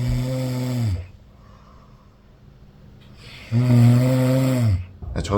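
A person snores loudly in two long, rasping inhaled snores separated by a quiet pause, with a shorter snort-like breath at the end. It is close and unaccompanied.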